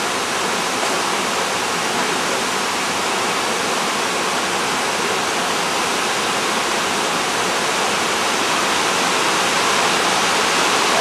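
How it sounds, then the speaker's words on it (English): Rushing river water at a crossing, a loud, steady broadband roar of flowing current holding constant throughout with no voices. "How was the river crossing, Rach?"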